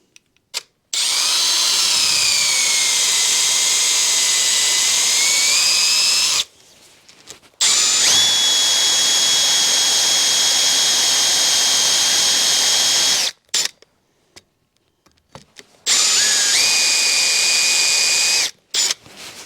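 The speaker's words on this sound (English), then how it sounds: "we'll go over and put that in the vise and drill it" A power drill whines loudly and steadily in three long runs, drilling a workpiece held in a vise for a deer skull plaque, separated by brief pauses and small clunks, very close.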